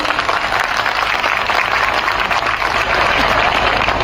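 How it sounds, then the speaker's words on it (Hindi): Audience at a school event on climate and nature clapping together, a steady dense wash of applause lasting the whole stretch with no voices over it. "इनके लिए ताली बजाइए।"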